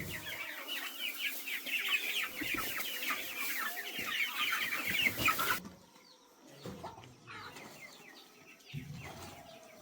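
Farm chickens cluck and chirp in a busy, close flock after feeding, a dense chatter that drops off midway and resumes more sparsely and quietly.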